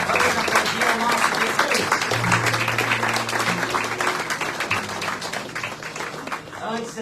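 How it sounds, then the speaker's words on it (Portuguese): Church congregation applauding during a worship service, steady dense clapping throughout with a sustained tone and voices mixed in beneath. "Vamos aplaudir ao nosso Rei."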